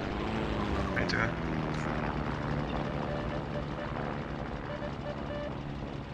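Aircraft engines droning in a World War II tank battle game, a continuous propeller hum with a steady mechanical rumble, while players talk over it.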